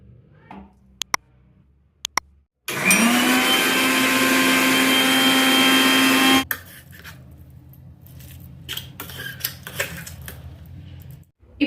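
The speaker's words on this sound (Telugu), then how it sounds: "దీన్ని చల్లారబెట్టుకొని మిక్సీలో వేసి మెత్తటి పేస్ట్గా చేసుకుందాం" A mixer grinder whirs loudly for about four seconds, grinding cooked gongura leaves into a paste. The burst starts and stops abruptly and is framed by quiet kitchen clatter and small knocks.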